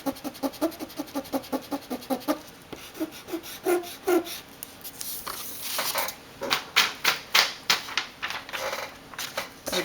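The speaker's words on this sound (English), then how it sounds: "Let's try erasing some of these lines we wrote beforehand." Paper Mate EraserMate eraser rubbing out pen lines on paper, a close series of quick rhythmic scrubbing strokes in bursts, loud and dry with short pauses between runs.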